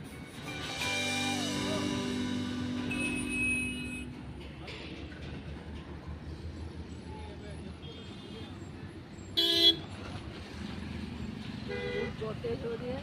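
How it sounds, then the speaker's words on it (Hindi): Heavy road traffic in Jaipur rumbles steadily while car horns honk repeatedly, with a long horn blast near the start and a sharp, louder honk later. Vehicles pass close by, and people talk over the noise throughout. "ट्रैफिक लग रहा है, और बहुत मुश्किल है मतलब जयपुर में से बाहर निकलना"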